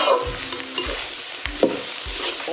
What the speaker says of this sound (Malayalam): ചട്ടി അടുപ്പത്ത് വെച്ച് എല്ലാ സാധനങ്ങളും ഇട്ട് നമ്മൾ ഇത് വറുത്തെടുക്കണം